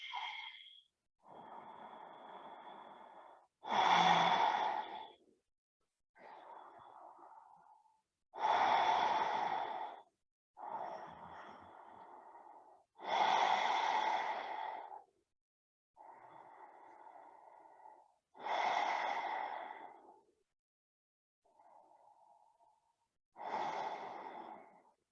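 Slow, deep yoga breathing during a gentle morning vinyasa session: long airy inhales alternate with fuller, louder exhales in an even rhythm, each lasting a couple of seconds, close and clear with short pauses between.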